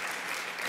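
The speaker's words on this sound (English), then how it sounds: "let's give them a round of applause" A brief burst of applause from a conference luncheon audience for national board members, steady and fairly quiet, with no talk.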